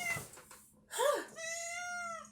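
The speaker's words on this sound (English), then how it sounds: "He is the most vocal cat I've ever had." A very vocal pet cat meows close by indoors: a faint call, then a loud rising-and-falling meow, followed by a longer drawn-out cry, with a person's voice speaking softly in the background.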